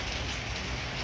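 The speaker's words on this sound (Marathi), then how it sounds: "इथे पाऊस वाढला परत भिजत जायला लागेल" Monsoon rain falls steadily during a trek to Kaldurg Fort, an even, close hiss of drops with no pauses and no voices over the brief stretch.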